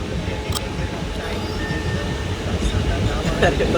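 A crowded passenger train rumbles along steadily with loud, constant rolling noise and faint squeals, while voices murmur inside the packed carriage.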